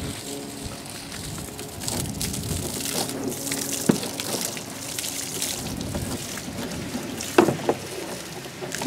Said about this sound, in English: It's okay. Dump the water out.